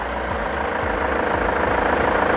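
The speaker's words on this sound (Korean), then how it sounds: "엔진 소리 양호한 차량이고요" An All New Kia Carnival 9-seater minivan engine idles steadily with a low, rhythmic rumble and a faint ticking knock, close up and continuous with no voices.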